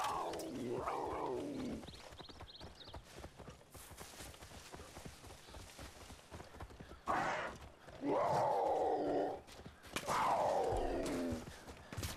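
A puma in Far Cry New Dawn lets out loud snarling roars in two or three bursts, near and strong, between stretches of quieter game noise.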